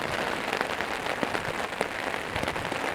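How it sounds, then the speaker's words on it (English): Steady storm rain pattering on a tent while camping, a dense hiss of drops with occasional sharper taps, close and continuous. "That's rain."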